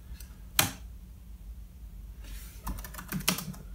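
Someone types on a computer keyboard in two short bursts, the first a single sharp clack and then a quick run of close keystrokes after a pause, against quiet room hum.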